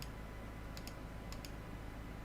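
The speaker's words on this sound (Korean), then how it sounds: "Y 눌러서 클릭, 또 Y 클릭, Y" A few crisp key presses and clicks on a computer keyboard and mouse while working in Maya modeling software, two quick pairs of light taps over a steady soft background hiss.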